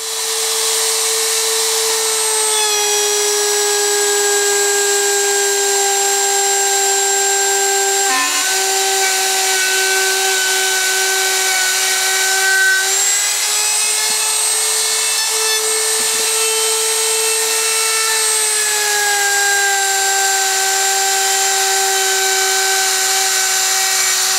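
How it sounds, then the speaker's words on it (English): A router fitted with a trim bit trims thin luan panel on a camper slide-room wall, running as one loud, sustained high-pitched whine whose pitch dips slightly now and then under load, with no talking. "I'm going to finish off with the router. The router and the trim bit."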